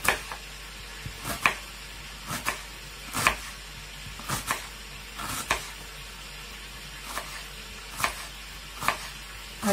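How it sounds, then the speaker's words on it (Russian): Knife strokes chopping onion on a cutting board, sharp irregular thuds spaced about a second apart over a faint background hiss, close and moderately loud. "Сначала я порежу, конечно, миленько"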